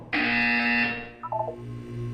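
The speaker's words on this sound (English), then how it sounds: "You will hear a buzzer." A harsh electronic buzzer sounds loud and sustained for about a second in the video game Portal 2, followed by a short stepped chime, with a low hum underneath.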